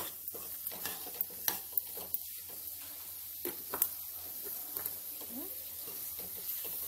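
Cucumber and tomato curry sizzles and simmers in a pan over a flame, a steady soft frying hiss with occasional clicks and stirring scrapes throughout.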